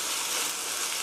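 Tomato paste mixture stir-frying in a pan for quesadilla filling, a steady, bright hiss of sizzling heard close and alone.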